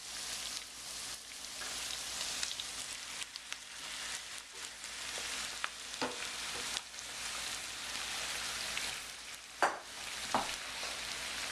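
Onions sauté softly in a pan, a low steady sizzle punctuated by a few brief stirring clicks and scrapes, fairly faint and close.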